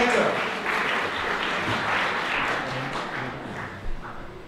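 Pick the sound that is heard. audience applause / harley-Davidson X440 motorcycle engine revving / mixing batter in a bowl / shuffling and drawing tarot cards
audience applause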